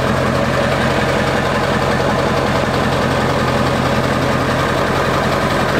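A 1997 Ford F-350 four-door long bed with the Powerstroke diesel idles nearby, a loud, steady low rumble with a rhythmic diesel clatter that never changes pace.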